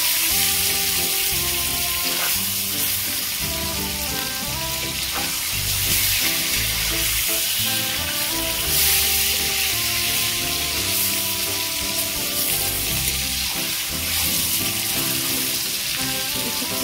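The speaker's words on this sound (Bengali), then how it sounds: "কই মাছ দিয়ে কিন্তু এইভাবে নাড়তে হবে" Koi fish fry in oil with eggplant in a pan and are stirred. A continuous, loud sizzle runs throughout, broken by repeated scraping stirs, with a steady tonal layer underneath.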